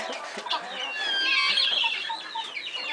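Chickens and small chicks cluck and peep close by in a continuous chatter of high, busy calls, with a few faint voices in the background.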